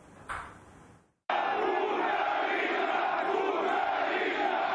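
A dense crowd shouts and chants during a protest outside the Crimean parliament in February 2014, a loud, sustained roar of many voices that starts abruptly after a brief quieter moment.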